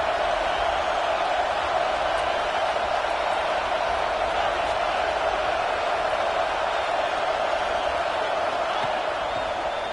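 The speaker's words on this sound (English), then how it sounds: "This crowd, full throat, splitting the eardrums" A football stadium crowd cheers at full volume, forming a constant, dense wall of roaring noise that holds steady throughout.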